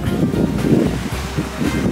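A small river flows on a hot day along the Pacific Crest Trail, giving a steady, close, fairly loud rushing wash of water with no talking.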